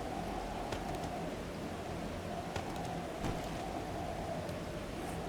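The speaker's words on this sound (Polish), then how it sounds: "w środku ulewy" Steady rain pours down in the 7 Days To Die video game, a constant close hiss of downpour with a few faint knocks and ticks scattered through it and no talk.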